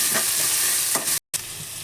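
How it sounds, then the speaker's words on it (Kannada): Onions fry in a pan with a loud, close sizzle and a few scraping stirs, broken by a brief cut to silence partway through. "ನೆಕ್ಸ್ಟ್ ಅದಕ್ಕೆ ಈರುಳ್ಳಿನ ಫ್ರೈ ಮಾಡೋಣ."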